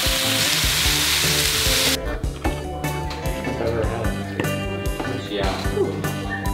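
Prawns and scallops fry on a stovetop beside salmon steaks on a grill, starting with a loud hiss of sizzling and then giving way to clattering pan and utensil sounds over a continuing sizzle.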